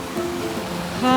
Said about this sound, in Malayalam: പിന്നെ അവിടെ നിന്ന് അതിങ്ങനെ ചാടിപ്പോവാണ് വെള്ളച്ചാട്ടമായിട്ട്